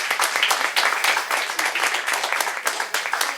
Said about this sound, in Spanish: por favor, un aplauso grande